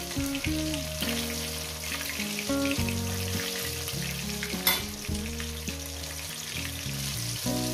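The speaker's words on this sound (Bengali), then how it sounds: "এই মাছগুলো আমার ভাজা হয়ে গেছে।" Oil sizzles and bubbles continuously as rohu fish fries, a steady close hiss running under loud background music.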